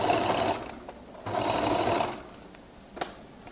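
Sewing machine stitching a flared skirt seam in two short close bursts of whirring motor, separated by a brief pause and followed by a quiet click.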